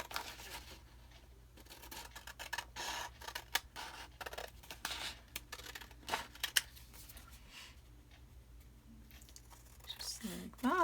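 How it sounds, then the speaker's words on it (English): Scissors snip and paper rustles as a piece is cut out for an envelope flip journal, giving quiet, irregular clipping sounds over low background hum, with talking in parts. "And you can cut it out."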